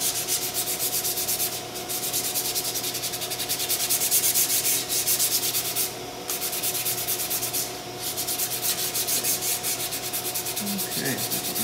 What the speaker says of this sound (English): Since we're doing a very light sanding